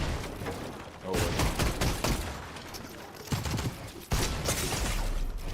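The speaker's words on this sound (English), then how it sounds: "I love how my pump does no damage. I'm literally shooting my gun." Bursts of shotgun fire from a pump shotgun in Fortnite, several loud sharp blasts with clattering mechanical action and chaotic game noise between them, no talking.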